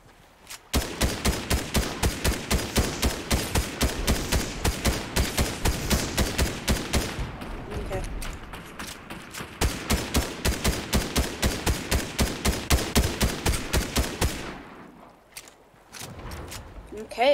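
Rapid bursts of gunfire from a flare gun in the video game Fortnite, loud and close, rattling in two long runs with a short pause between and a quieter stretch at the end.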